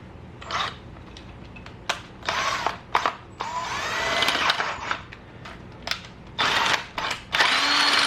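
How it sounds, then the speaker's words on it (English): Power drill boring out a bolt hole in a 2014 Suzuki GSX-R 750 engine case for a helicoil insert, heard in several short bursts of whirring and grinding with brief pauses between them, close and fairly loud. "we now have the larger drill bit for the helicoil. We're going to drill this out."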